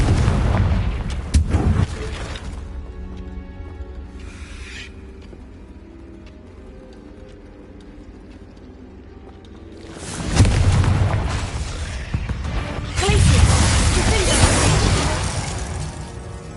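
Confringo fire-spell explosions in Hogwarts Legacy: a loud blast at the start, then a quieter stretch, and two more heavy booming bursts with rumbling debris near the end, with no talk.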